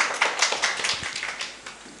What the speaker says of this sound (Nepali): ताली बजाएर हामी स्वागत गर्नेछौँ।